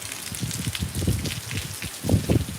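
Rain falling steadily on a surface, a dense patter of drops with uneven surges in intensity, close and continuous with no voices.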